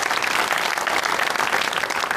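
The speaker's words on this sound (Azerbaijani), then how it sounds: "Bir alqışlar gəlsin özünüzə." Studio audience at a comedy show applauding, dense continuous clapping from a large crowd, loud and close, filling the whole stretch evenly.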